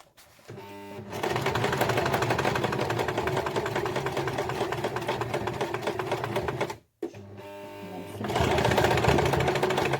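Sewing machine stitching a messenger bag seam, a fast steady mechanical whir running close and loud, a brief stop, then a few more stitches as it starts again.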